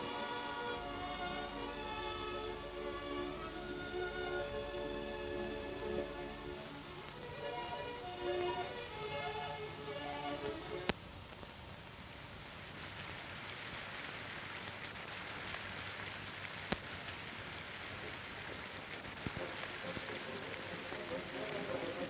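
Steady rain pours down on farm fields, a continuous hiss that carries through the whole stretch, first under sustained music and then more exposed, with a couple of sharp ticks near the middle.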